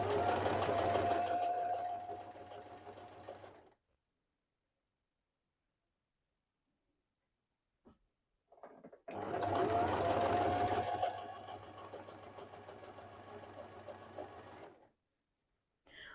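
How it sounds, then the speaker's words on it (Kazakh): A sewing machine runs in two close, steady bursts stitching a seam on a three-sided cloth cover, each a few seconds of rapid mechanical whirring, separated by a quiet pause with a few soft handling clicks. "Осылай қайырып, енді тігісті жүргізетін боламыз."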